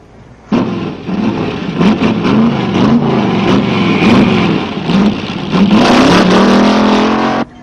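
A car engine roars close and loud, revving up and down repeatedly with rising and falling pitch for about seven seconds as it draws near, with no voices over it.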